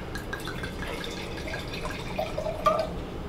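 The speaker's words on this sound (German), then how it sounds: "Wir mal ein bisschen Rotwein einschenken" Red wine poured from a bottle into a glass at a festive Advent dinner table, a soft trickling splash with a few brighter glugs near the end, close and fairly quiet.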